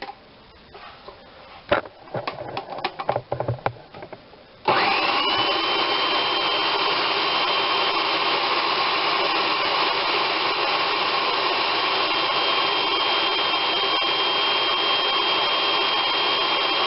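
Blender switching on to puree cauliflower soup, a loud steady motor whir that runs continuously after a few seconds of clattering handling noises, close and uninterrupted.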